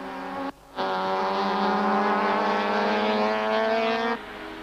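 Super Touring race cars from the 1995 season battle for position at Kyalami, a steady, loud engine drone with strong harmonics that cuts out briefly and then holds at high revs for several seconds before dropping away.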